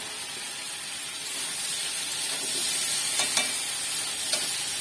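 Shrimp and fried potato sizzle in a pan while being stirred, producing a continuous close hiss that swells slightly, with a few light scrapes and clicks of the utensil and no talking.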